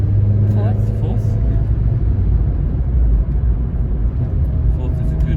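A manual stick-shift car cruises in fourth gear on a road, its engine a steady low drone with constant road rumble throughout, close and even, no revving or shifts.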